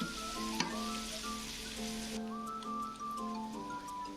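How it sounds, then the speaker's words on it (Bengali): Two tablespoons of ginger garlic paste sizzle steadily in a rice cooker after fried onions, a continuous close frying hiss with faint scraping and stirring. "2 টেবিল চামচ আদা রসুন বাটা দিয়ে আমি আদা রসুনটা ভালোভাবে একটু কষিয়ে নিব"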